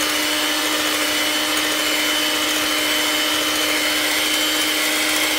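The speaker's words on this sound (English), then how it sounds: "So I'm just mixing the egg whites" An electric hand mixer whips egg whites and sugar in a bowl, a steady loud motor whir with a high whine running unbroken throughout, no voices.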